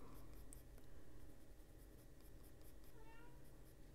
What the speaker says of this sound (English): my kitty cat's having a fit.